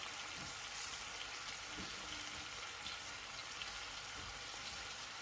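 Shrimp sizzle in lemon butter in a pan, a steady close frying hiss with faint crackles and occasional soft taps, no talking.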